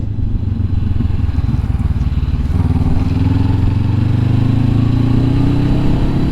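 A motorcycle rides along a road near Lac du Salagou in southern France. Its engine is close and loud, with a steady droning note that climbs slightly in pitch as it accelerates, and no one speaks.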